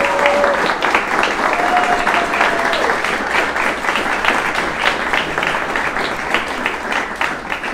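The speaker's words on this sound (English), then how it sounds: "Can you all get up so that we can clap for you as well?" Loud, dense applause from a town hall audience, many hands clapping steadily and continuously from start to finish.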